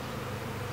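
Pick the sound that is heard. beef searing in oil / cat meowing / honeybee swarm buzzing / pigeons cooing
honeybee swarm buzzing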